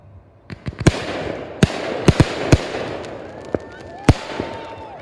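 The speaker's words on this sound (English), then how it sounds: "even considering that these 2-inch shells are much smaller than the 3-inch, the performance is honestly still rather impressive" Small 2-inch firework shells launch from a homemade mortar rack of store-bought tubes and fresh lumber outdoors, with about eight sharp, loud thumps at irregular intervals and faint whistling trails between them.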